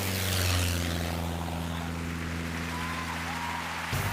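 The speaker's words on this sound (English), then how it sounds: "Harari braces himself as the airplanes careen toward the platform." Propeller airplanes roar steadily toward a stage platform during a live magic awards illusion, a loud sustained engine drone with a deep hum that cuts off abruptly near the end.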